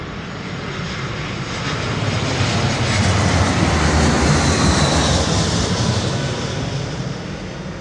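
A Boeing airliner at London Heathrow Airport produces a loud, continuous jet roar that swells to a peak and then eases slightly while staying steady throughout.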